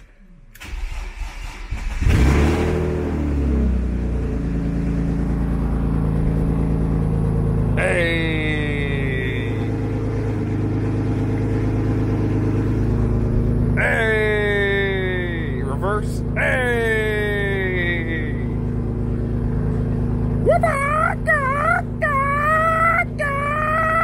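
A BMW E36 with a freshly hand-bled clutch slave cylinder cranks and fires up, then settles into a steady idle with a few throttle blips, loud and close throughout.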